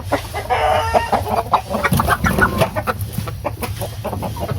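Rhode Island Red heritage chickens cluck steadily inside a coop, with overlapping calls from several birds close by and a rooster-like crow mixed in, continuous throughout with no talking.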